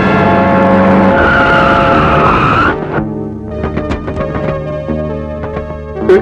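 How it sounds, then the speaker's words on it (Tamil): A car skids to a stop with a loud tire screech, in a scene from a Tamil film. Music plays over and after the skid. "டிரைவர், வண்டி நிறுத்து."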